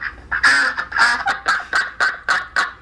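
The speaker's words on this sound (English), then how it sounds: "the sound of those rabid ducks" Loud duck quacking sound effect, about nine nasal honking quacks in a steady, insistent rhythm, close and clear with no voices.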